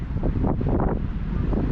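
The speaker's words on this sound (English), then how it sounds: "It's windy." Steady wind buffets the microphone on Bear Lake's Rendezvous Beach in Utah on a cold afternoon, a loud, continuous broadband rush with no pauses and no voices.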